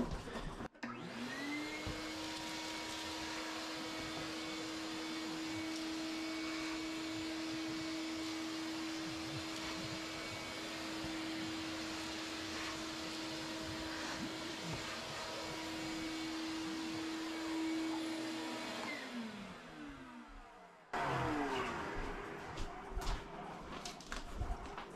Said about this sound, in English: none of this blows out when I turn on the vacuum